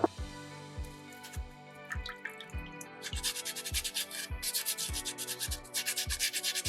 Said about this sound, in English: But I think right now I am ready to start sanding this piece.